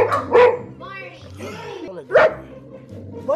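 A dog barks a few times at close range, sharp loud yaps separated by short pauses, with people talking around it.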